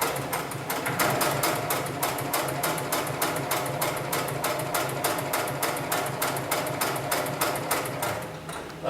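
A heavy-duty industrial sewing machine stitches thick textile webbing, producing a fast, even, loud mechanical clatter of needle strokes that runs continuously and close for the whole stretch.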